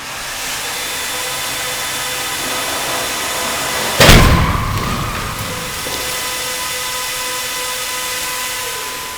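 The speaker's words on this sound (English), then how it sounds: "the test equipment is going to come out of and just ram right into the side of this vehicle" A crash test rig rams into the side of a vehicle, producing one sudden loud impact midway through a steady, loud background rush, followed by a fading rumble.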